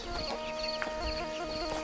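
Chickens on a village farm cluck in short, repeated bursts nearby, scattered over a steady rural background hum.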